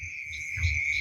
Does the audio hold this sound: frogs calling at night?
yes